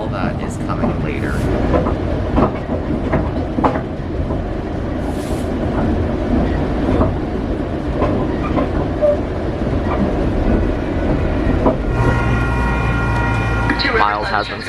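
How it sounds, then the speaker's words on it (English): Steady rumble of a passenger train in Orange County rolling along the rails with clattering wheel noise, a horn-like tone entering near the end, and voices in the background. "This train's actually heading towards Riverside."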